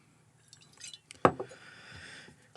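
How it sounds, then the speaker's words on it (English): Eagle Rare bourbon whiskey poured into a glass, a brief liquid splash and trickle with a soft clink near the start, close and quiet with no talking. "I'm gonna go ahead and pour a little bit of this so we can compare the two."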